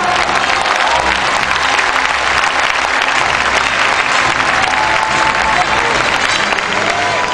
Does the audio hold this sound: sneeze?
no